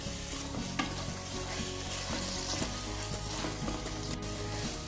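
Kerala-style chicken perattu is stir-roasted uncovered in a pan after its water has cooked off, a constant frying sizzle broken by repeated scraping stir strokes, close and steady, with no voices.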